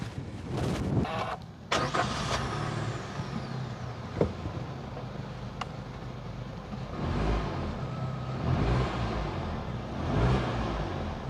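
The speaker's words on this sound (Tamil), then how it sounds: "இப்போ நான் என்ஜினை ஸ்டார்ட் பண்ணுறேன் பாருங்கள்." A Maruti Suzuki XL6 car engine cranks and catches, then settles into a steady, close idle hum that rises slightly in places.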